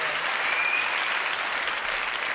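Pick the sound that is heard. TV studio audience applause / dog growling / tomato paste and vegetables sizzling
TV studio audience applause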